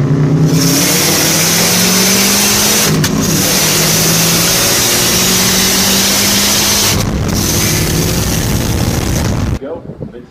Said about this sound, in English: Go, Mitsubishi. On the Goodyear side of the track, the driver's left, taking on the Subaru on the Chevrolet side of the track.